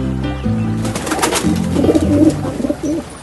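A dove coos in a low, soft, repeated pattern in an animated Telugu retelling of the Aesop fable of the ant and the dove, with a few gentle calls spaced across the moment and no speech.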